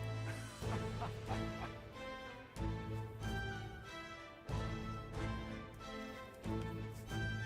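A dog in the video game Metaphor: ReFantazio barks in short repeating bursts, roughly every two seconds, over a steady bed of game music.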